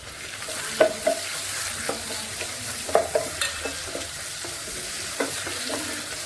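Chopped tomatoes go into a pan of softened, wilted onions for a chicken roast, giving a steady, moderate sizzle with several sharp stirring clinks of a spoon against the pan, close by and with no talk.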